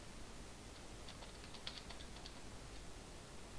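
Quick light keyboard taps in a short run of clicks, faint over steady background hiss, while playing Agrarian Skies.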